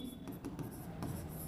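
A pen scratches steadily across a board during a math lesson, a continuous close scraping with small strokes and pauses, no voice heard over it.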